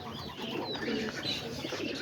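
Pigeons and their young being fed in a loft, soft coos and chirps under a busy rustling background, close by, with no talk.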